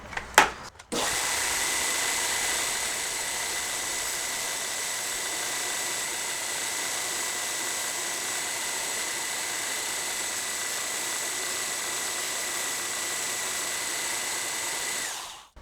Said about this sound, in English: switch to a Scotch-Brite belt, hit it with a Scotch-Brite belt, and we'll leave it at that before the heat treat